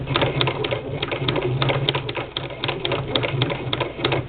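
A Singer Model 20 sewing machine stitching fabric, a steady run of rapid close mechanical clicks that goes on throughout without pause, with no voices.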